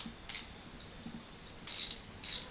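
Ratchet wrench clicking after ultrasonic cleaning in oil, heard as faint soft mechanical clicks with a few sharper bursts of rapid ratcheting, close and quiet with no talking.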